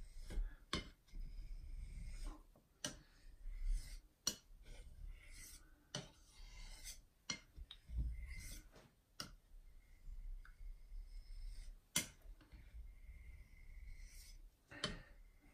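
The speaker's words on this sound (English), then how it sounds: "This transition zone on a Scandi grind is always a little bit tricky to sharpen for me." A Scandi-ground knife blade scraping across a natural whetstone, quiet rasping strokes broken by sharp clicks and ticks at an uneven rhythm, close up and faint, with no talking.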